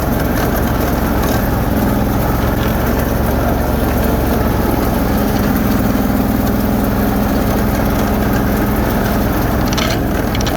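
A tractor engine idles steadily and loudly up close while its steering skips, a constant low rumbling drone with faint irregular knocks running through it for the whole stretch.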